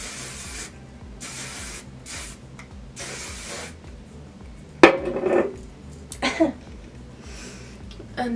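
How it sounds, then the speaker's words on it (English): Several short hissing bursts of an aerosol hair texture spray, spaced apart, followed by a sharp clatter and some handling noises. "I'm going to go back in with the texture spray."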